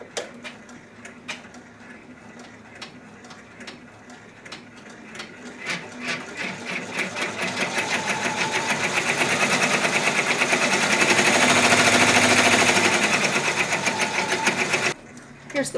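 A multi-needle embroidery machine stitches the background quilting on star quilt blocks, a steady rapid mechanical chatter of needle strokes that builds and grows louder, then stops abruptly near the end.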